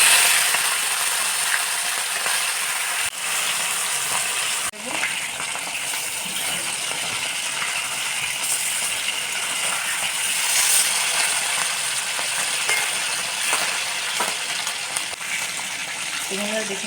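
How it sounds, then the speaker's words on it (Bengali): Chicken frying in hot oil in a wok, a continuous dense sizzle with occasional small clicks and clatters of the pan throughout, steady and close with no talking. "চিকেনটা আমি ভেজে নেব। মধ্যে আমি চিকেনগুলো দিয়ে দেবো।"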